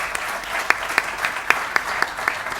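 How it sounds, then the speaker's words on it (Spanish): A crowd applauds steadily at a ceremony, a dense wash of clapping with a few louder individual claps standing out at regular intervals. "Bravo, un aplauso."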